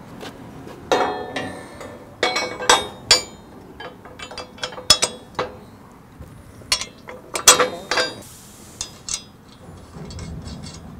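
A bracket being bolted onto a Q-Catch head gate and squeeze, irregular metallic clinks, ratcheting clicks and taps of tools on steel, close by, with quiet gaps between bursts and no talking.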